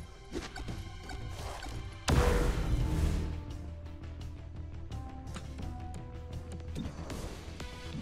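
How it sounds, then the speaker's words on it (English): A grenade explodes in the video game XCOM: Chimera Squad, a sudden loud crashing blast that rises sharply over game noise and music, then decays over about a second into the background. "This is the first time I'm using grenade."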